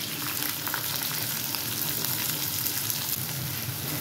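Green chili and onions frying in oil with cumin, a steady, even sizzle that continues throughout with no speech.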